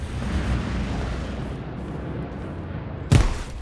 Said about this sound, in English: I'm gonna grenade him